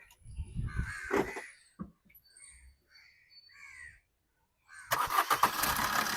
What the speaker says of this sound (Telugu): సింగిల్ సెల్ఫ్లో బండి స్టార్ట్ ఉంది సార్